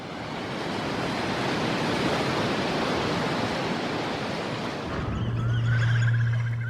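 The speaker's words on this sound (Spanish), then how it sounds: "Este es el río Támesis a su paso por Londres, Inglaterra." The River Thames flows through London, a broad steady rushing wash of water that fades near the end into a low hum with faint higher tones.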